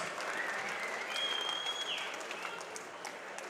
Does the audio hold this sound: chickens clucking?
no